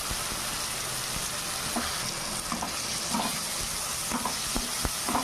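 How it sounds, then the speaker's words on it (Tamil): Onion sautés in a pan before noodles go in, with a steady close sizzle of frying and occasional soft stirring clicks throughout. "ஆனியனை லைட்டாக வதக்கி விட்டால் போதும்"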